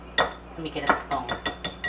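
Spoon picked out from a drawer of cutlery while making banana pudding, a run of bright metallic clinks and rattles in quick succession, close and moderately loud, with a few sharper knocks.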